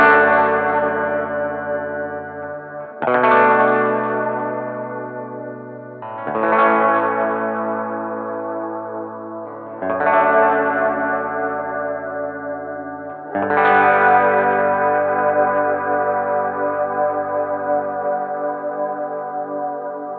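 Electric guitar played through a Fathom effects pedal, five big sustained chords each struck and left to ring out with long, shimmering reverb tails and a swelling, washed ambience.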